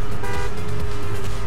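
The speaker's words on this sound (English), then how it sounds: "Stop honking!" A car horn honks in the racing video game Trackmania, a loud, sustained blare that holds steady for about a second and a half.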